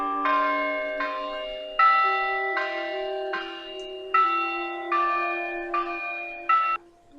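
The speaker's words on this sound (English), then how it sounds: "There are 2 bell towers and 9 bells at Mission Carmel." Church bells ringing at Mission Carmel, whose two towers hold nine bells, sounding loud and clear in a steady sequence of overlapping, sustained strikes that fade at the end.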